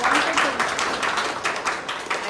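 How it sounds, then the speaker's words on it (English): Dense crackling applause from a crowd at a Toastmasters club meeting, steady and fairly loud throughout, with a few voices mixed in underneath. "Just give a big round of applause."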